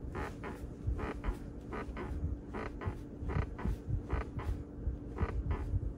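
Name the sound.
squeak by center armrest of 2025 Toyota Camry XSE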